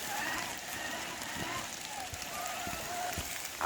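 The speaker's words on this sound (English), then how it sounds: "even though it's raining" Rain falls on an outdoor trail during a run with Axial RC crawler trucks, a steady patter and hiss on the surface throughout, moderately close, with a few soft thumps and voices in the background.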